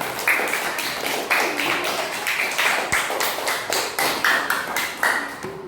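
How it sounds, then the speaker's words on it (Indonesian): Classroom applause for a student: a group clapping in a steady rhythmic pattern of repeated bursts, close and fairly loud, continuing throughout without talk. "tepuk tangan buat Nok Kamila"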